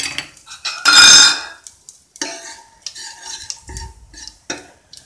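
Cumin seeds, a bay leaf and asafoetida dropped into hot oil in a pan for rajma curry, giving a loud burst of sizzling followed by scattered spoon scrapes and clinks against the pot, with no talking.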